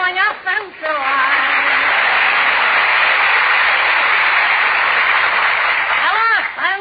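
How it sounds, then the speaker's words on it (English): Studio audience applause on an old-time radio comedy show, a sustained steady burst of clapping that swells briefly and fades, with someone talking before and after it. "did you hear that applause?"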